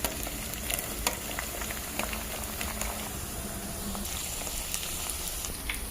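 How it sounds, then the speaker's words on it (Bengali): Carrot and bean pieces fry in hot oil in a home kitchen for chow mein, giving a steady soft sizzle. Small crackles and pops break through it, and no one speaks. "এরপর আমি গাজরটা ভেজে নেব।"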